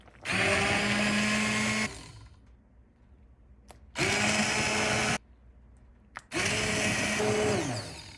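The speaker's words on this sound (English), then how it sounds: "Just a hand blender." A hand blender whirs loudly in three separate bursts through tortilla soup, each a couple of seconds long, with short quiet pauses between them.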